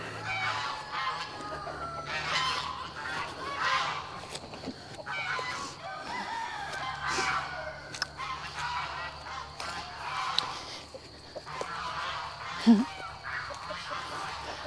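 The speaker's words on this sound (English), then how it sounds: "I'm gonna try to walk over here and see if the geese will be quiet" Geese honk among chickens on a small farm, their calls repeating steadily at a moderate distance across the whole stretch, with one sharper, louder call near the end.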